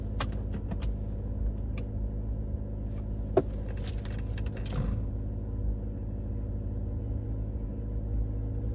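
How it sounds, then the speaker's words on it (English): A car engine runs with a steady low rumble inside the cabin, overlaid by a few light clicks, creaks and jingling like keys near the start, continuous and moderate with no talk. "let's start the car"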